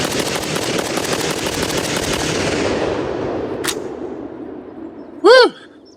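A Zastava ZPAP M85 rifle in 5.56 fires a fast string of shots outdoors, loud and close, trailing off into echo, followed by a single brief whoop.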